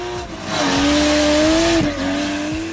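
A modified Lexus SC300 with a 2JZ engine driven hard, its engine revving loud and close as the pitch climbs, dips and climbs again, with tire squeal and skidding.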